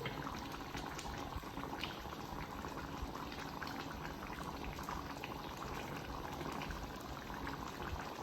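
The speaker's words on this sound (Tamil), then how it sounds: "இப்போ பார்த்தீங்கன்னா நல்லா கொதிச்சு வந்துட்டுது பாருங்க" Chicken and prawn rice porridge boils in a covered pot, a steady close bubbling and popping that carries on evenly throughout with no voices.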